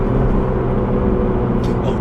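Inside a Kia K5 1.6T in sport mode, the engine sound from the sound generator gives a steady low droning rumble that fills the cabin at close range, with a brief voice near the end.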